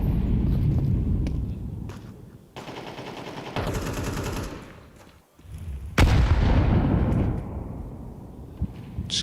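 Grenade explosions and gunfire during a professional Counter-Strike match at IEM Cologne 2025: loud bursts and rumbling blasts with rapid shots, a brief lull midway, then another sharp explosion and sustained noise.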